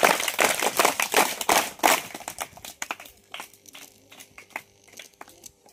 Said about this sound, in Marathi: सर्वप्रथम त्यांचं टाळ्या वाजवून अभिनंदन करूया